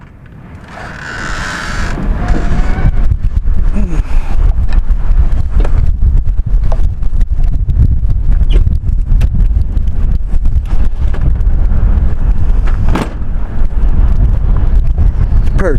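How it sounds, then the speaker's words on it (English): Strong wind buffets the microphone outdoors on a dusty, gusty day near an RV, a loud continuous low roar with rumbling gusts throughout, and no speech. "It's pretty windy out here."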